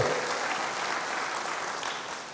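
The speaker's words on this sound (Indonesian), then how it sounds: "Berikan tepuk tangan bagi Tuhan, haleluya" A congregation claps for the Lord during a church sermon, a dense, sustained round of applause at close range that fades slightly toward the end.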